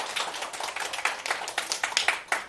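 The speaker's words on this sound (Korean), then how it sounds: "박수 한번 쳐주시죠." An audience claps after a lecture on treating pigment disorders with a 755nm Alex-Q laser: dense, steady applause from many hands, moderately loud, with no voices over it.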